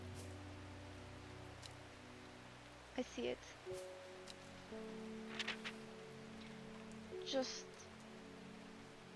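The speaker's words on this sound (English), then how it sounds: "I like the rain sounds." Soft, constant rain ambience from the video game Strange Horticulture runs throughout as a steady hiss, with a low hum beneath, light clicks and a person speaking briefly over it.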